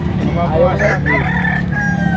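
A three-year-old rooster at a chicken market crows once up close and loud, a rising and falling call over a busy background hum with voices nearby.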